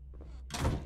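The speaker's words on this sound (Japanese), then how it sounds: "あ、自動ドアか。" An automatic door in the horror game Home Sweet Home slides open, a soft brief mechanical rumble that swells into a fuller whoosh, close and short.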